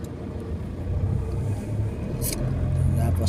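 Heard from inside a car moving through slow traffic, a steady low engine and road rumble swells slightly. A brief hiss of passing noise breaks in partway through.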